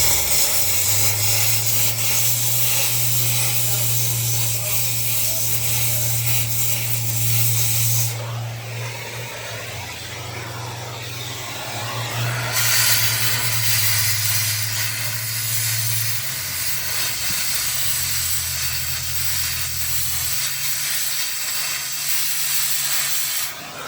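A torch burning paint off a cracked buggy frame before MIG welding, a loud continuous roaring hiss with a low droning hum that drops out briefly midway, close by.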